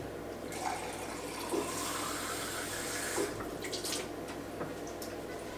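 Tap water runs into a pot, a steady close rushing and splashing that shifts in pitch as the pot fills, with a few clinks along the way.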